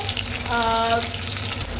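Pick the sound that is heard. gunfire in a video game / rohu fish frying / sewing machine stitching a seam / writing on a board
rohu fish frying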